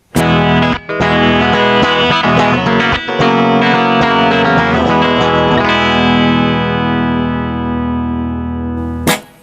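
A bright electric guitar rings out in chords and picked notes, then a final strum sustains and slowly decays before a last abrupt hit.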